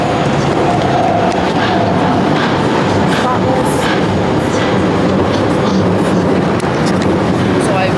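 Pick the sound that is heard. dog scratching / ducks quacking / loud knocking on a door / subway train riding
subway train riding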